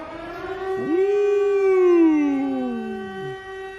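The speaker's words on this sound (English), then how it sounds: "We're starting with the goddamn sirens" A wailing siren rises sharply, holds a steady loud tone, then slides down and fades, sounding close and alone with no talk over it.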